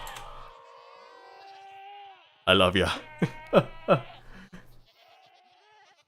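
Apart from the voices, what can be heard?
goats bleating in the Minecraft video game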